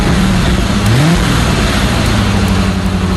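A car engine revs and pulls away at steady volume, a rising pitch sweep marking the acceleration over a constant rumble, with no voices.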